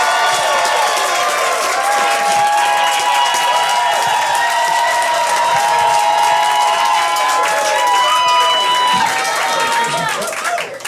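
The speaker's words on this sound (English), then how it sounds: "clap your hands" A comedy roast battle crowd claps and cheers steadily for a contestant, a dense sustained wall of applause and shouts throughout, with voices mixed in.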